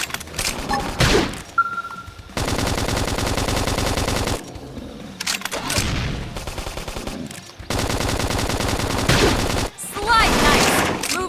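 Loud sustained automatic gunfire in Xenoblade Chronicles X, three long bursts of rapid shots broken by short gaps holding thuds and a brief tone.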